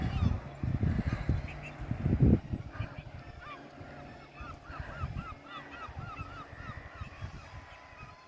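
Geese honk on the coast in a rapid series of calls, with louder low rumbling and movement noise early on and clear honking in the second half.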